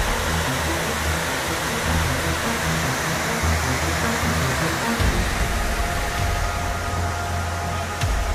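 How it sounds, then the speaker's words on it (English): Cascading waterfalls at the 9/11 memorial in New York City produce a steady, loud broadband rush of falling water that runs unbroken through the whole stretch, with a low hum beneath it. "this is where one of the towers was with its cascading waterfalls"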